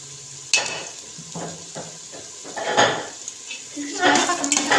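Ginger-garlic paste fries in sizzling oil while a utensil stirs and scrapes against the metal pan in irregular bursts, with occasional clinks.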